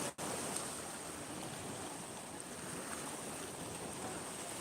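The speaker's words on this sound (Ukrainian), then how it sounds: "Тут, звісно, дуже дуже класне моречко, реально тут така вода прозора." Sea surf on the Odesa coast: a steady, broad wash of waves and wind, continuous and fairly faint, with no talk over it.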